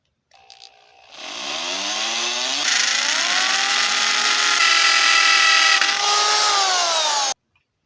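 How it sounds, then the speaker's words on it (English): A power drill drives a self-tapping screw during a balloon photo frame build: one continuous close whine lasting about six seconds that climbs in pitch, levels off, then stops abruptly. "And attach it with our self-tapping screw."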